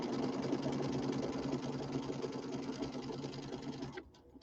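A sewing machine stitches around a pillow corner in one steady, fast, close whirring run, which stops abruptly near the end, leaving a few faint clicks.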